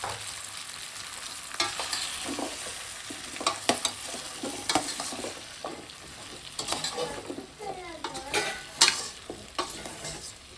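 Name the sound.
frying drumstick, potato and brinjal in pan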